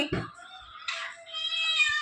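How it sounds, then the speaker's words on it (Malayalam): A cat meows a few times, close and fairly quiet, with a short higher-pitched cry in the middle. "പൂച്ച പൂച്ച പൂച്ച ബിസ്ക്കറ്റിന് വരികയാണ്"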